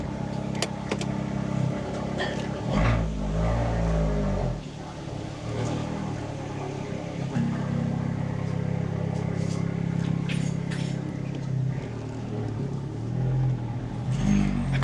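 Abarth 124 Spider sports car engine heard from inside the cabin while driving, a steady loud low drone with rises and falls as it pulls along, continuous for the whole stretch with no talking.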